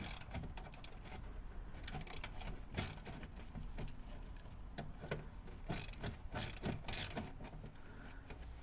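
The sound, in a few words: ratchet removing 8mm screw on BMW X5 brake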